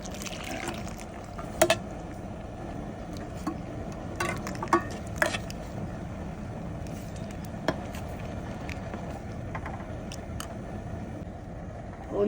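Water poured into a cooking pot of sambar for a Kerala sadya, a continuous watery rush with a few sharp clinks, heard alone for about twelve seconds.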